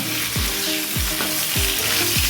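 Potatoes and beans fry in hot oil for a rohu fish curry, giving a loud, dense, continuous sizzle with repeated soft scraping stirs about every half second and no voices.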